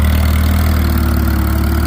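A tractor engine runs at a steady, loud, close chug with a deep throbbing low drone and no voices over it.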